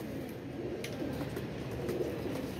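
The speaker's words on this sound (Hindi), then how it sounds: "अवैस भाई तंग तो नहीं है कबूतर" Caged pigeons, including a golden pair, coo softly and repeatedly nearby, low throaty calls over a steady background murmur, with no voices.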